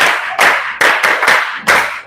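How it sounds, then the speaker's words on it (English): A Basic 5 class of pupils claps in several sharp, loud bursts, each swelling quickly and then breaking off before the next round starts. "Give yourselves a sound clap."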